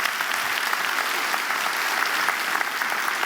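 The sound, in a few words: audience applause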